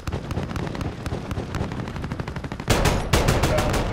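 A gunship fires on targets in Call of Duty: Modern Warfare, with rapid, steady gunfire that turns heavier and louder after a few seconds, firing continuously throughout.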